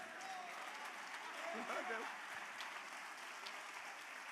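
A church congregation applauds during a sermon, a steady, moderately distant wash of clapping that holds evenly throughout, with a faint tonal voice or note briefly rising through it.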